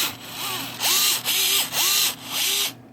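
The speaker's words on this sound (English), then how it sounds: "Still getting used to the screwdriver. It's gyroscopic." A gyroscopic electric screwdriver drives a screw while working on the player unit of a 1972 Williams Honey pinball machine. It gives four close motor whirs that rise and fall in pitch, separated by brief pauses.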